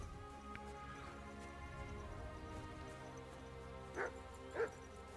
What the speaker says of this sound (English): And my dog's with me.